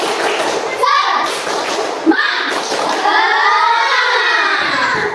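Children in a classroom chant loudly and clap rhythmically in a group ice-breaker, voices dominating with a few thumping claps mixed in.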